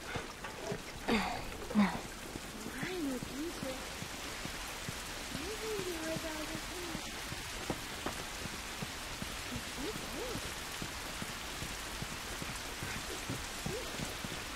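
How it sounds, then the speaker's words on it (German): Steady rain patters continuously for the whole stretch in the video game The Last of Us, with a few faint low sounds early on. "der Regen sieht immer noch so gut aus"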